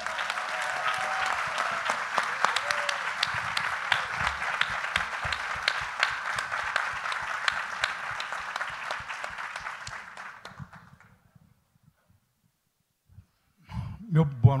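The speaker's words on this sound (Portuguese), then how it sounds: "gostaria de pedir uma salva de palmas para o Carlos Alberto Richelli" Audience applause for a guest at a Brazilian panel event, a dense sustained clapping from a crowd with some voices mixed in, fading out after about ten seconds into near silence before brief sounds return at the end.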